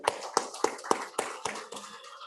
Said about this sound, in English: they deserve a huge round of applause from all of us as well